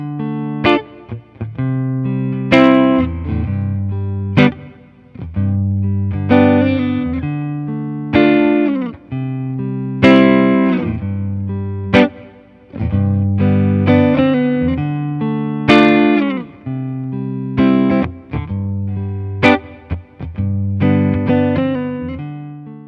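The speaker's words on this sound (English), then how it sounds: "it has three different types of reverb so you can choose from, hall, room, and special" Electric guitar notes and chords wash out in a long, spacious reverb from a Fender reverb pedal, with picked phrases blooming into a sustained shimmering tail, loud and up front.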